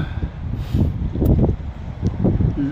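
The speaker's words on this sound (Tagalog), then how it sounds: "Mahangin dito ngayon." Gusty wind in Padborg, Denmark buffets the microphone in low rumbling bursts, rising and falling over a few seconds with no one talking.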